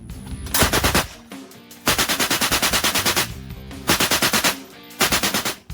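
Loud bursts of heavy machine gun fire, rapid rhythmic shots in several sustained strings separated by brief pauses, close and thunderous.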